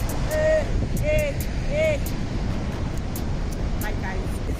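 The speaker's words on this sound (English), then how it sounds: "My guys, it is so windy." Strong wind roars across the microphone at Niagara Falls in a steady, heavy rumble, with a few short vocal whoops rising over it.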